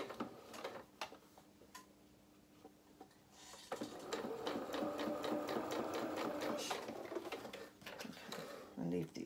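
A domestic sewing machine runs gathering stitches through fabric for a small doll-sized shirt, starting with a few short clicks and then a steady, close whir for several seconds, with someone speaking intermittently.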